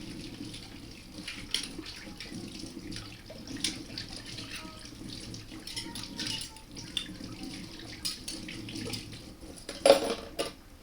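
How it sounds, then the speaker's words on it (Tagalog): Water runs from a tap in a kitchen sink during washing before cooking tinola, a steady low splash with occasional clinks and drips, fairly faint and with no talking. "Right, hugas muna tayo."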